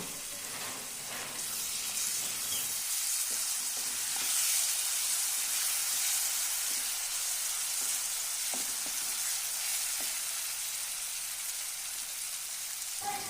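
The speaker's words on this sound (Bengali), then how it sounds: "চাল দিয়ে ভালোভাবে চালটাকে ভেজে নেব।" Soaked Gobindobhog rice frying in a pan with a little turmeric, giving a steady hissing sizzle at moderate level with occasional soft stirring clicks and scrapes.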